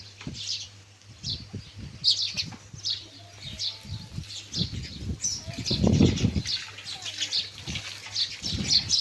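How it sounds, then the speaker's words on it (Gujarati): Sparrows chirp at a farm in a scatter of small, quick calls, with low thumps, rustling and pigeon-like coos mixed in close by. "આપણી ચકલી પારેલીઓ છે"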